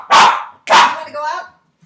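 Two loud, close dog barks ring out, followed by a shorter, fading bark-like whine before silence.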